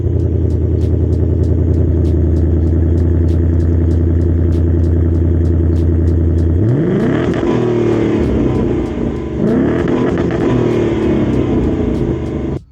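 A 2024 Ford Mustang Convertible with four exhaust tips, two per side, idles with a deep steady burble, then is revved hard twice in quick succession, the engine note rising and falling loudly up close.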